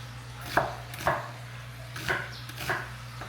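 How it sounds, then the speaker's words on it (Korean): Onion, apple and pear being chopped on a board for gochu-ppaegi kimchi: four evenly spaced knife thunks, close and fairly quiet, over a low steady hum. "양파를 썰어서 양파, 사과, 배를 썰어서 갈 거예요."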